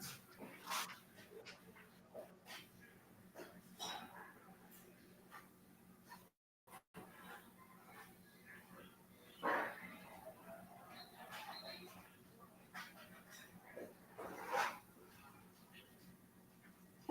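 A dog pants softly and whimpers indoors, with faint breathy huffs and occasional small yips scattered over a quiet room hum, and no clear loud barking.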